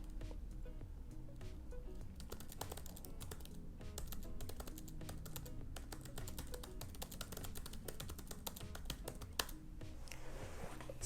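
Fingers type quickly and steadily on a computer keyboard while copying out The Great Gatsby, a faint, close run of rapid key clicks with no talking.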